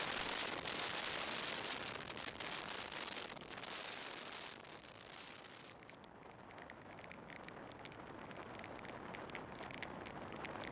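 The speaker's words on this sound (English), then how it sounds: "This is a real rain." Steady heavy rain pours during a ride on a Kawasaki KLR650 dual-sport motorcycle, a dense hiss of drops with wind and road rush underneath, constant and enveloping with no voices.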